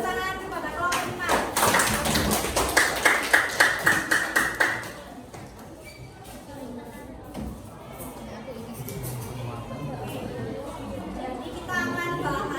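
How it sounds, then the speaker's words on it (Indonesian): A class claps for a student group after its presentation: a short burst of applause from a room of people lasting a few seconds, then fading into low murmuring chatter and room noise. "Kan tepuk tangan kepada kelompok 5."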